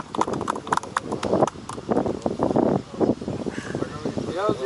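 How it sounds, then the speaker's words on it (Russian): Hooves of a Karachay stallion clip-clopping on the ground nearby, a steady run of knocks under people talking. "Вот эта лошадь теперь твоя."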